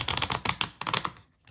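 A quick run of dense, papery riffling clicks up close, oracle cards flicking against each other in two bursts of shuffling before stopping.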